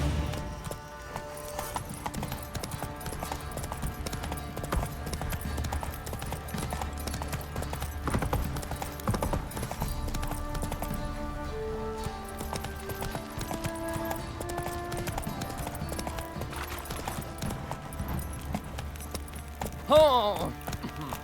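Roach, a horse in The Witcher 3, gallops with steady hoofbeats under a continuous music score, with a voice speaking over it and a brief louder burst near the end.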